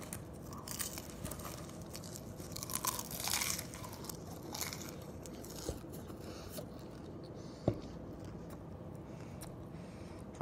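Popcorn eaten as a snack close to the mic: moderate, irregular crunching and chewing with soft crinkly bursts and occasional sharp clicks, continuing for about ten seconds with no talk.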